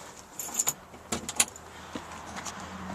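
A set of car keys jangles around a 1962 Studebaker Hawk GT, a few short bright metallic rattles close by with quiet gaps between them and no talking.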